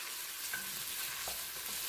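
Onions or aromatics sautéing in a heat-retaining pot for a ranch-style pipián, a steady soft sizzle with occasional stirring scrapes, fairly quiet and continuous throughout.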